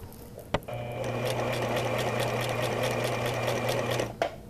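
A sewing machine stitches along the fabric toward the next corner with a steady, close mechanical whir and rapid needle clatter lasting several seconds, bracketed by sharp clunks at start and stop.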